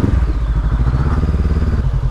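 A heavy motorcycle labours along a muddy road blocked by landslides after a typhoon in Batangas, its engine a loud, close, steady chugging throb with a rough rattle throughout.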